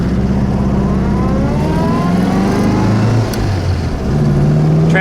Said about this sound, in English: It pulls nicely. It's a happy little motor.